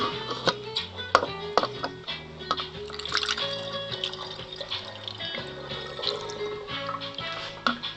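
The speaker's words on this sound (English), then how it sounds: "put the molasses water into the sugar" Molasses water pours into sugar for pretzel bread, making a run of trickles and small drips over soft background music.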